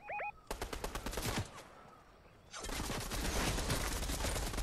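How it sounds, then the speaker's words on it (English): Fortnite gunfire crackles in a rapid burst of close shots, then after a short lull a dense, sustained volley of automatic fire rattles on continuously. "People are shooting at me, up right here."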